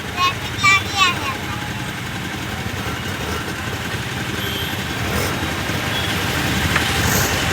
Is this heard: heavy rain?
no